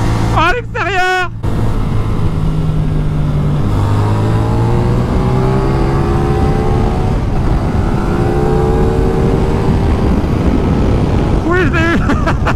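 Motorcycles ride on a race circuit, engines droning steadily and sweeping up and down through the gears, with passes loud nearby near the start and again at the end, under wind and background noise.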